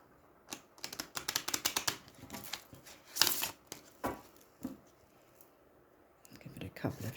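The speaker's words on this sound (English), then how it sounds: "I'll just shuffle this, although it's going to be quite brief because it's very small." A very small tarot deck is riffled and shuffled by hand, giving quick bursts of crisp card flutter with pauses between them. The shuffles are close and fairly soft.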